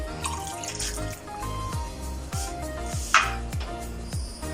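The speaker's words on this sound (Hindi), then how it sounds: "और ये तकरीबन ½ कप मटन की यखनी है, ये भी इसके अंदर ऐड करेंगे।" Mutton stock for a Lahori mutton karahi pours and splashes into the pan with ginger-garlic paste, a wet sloshing stream with scattered drips and light clatter.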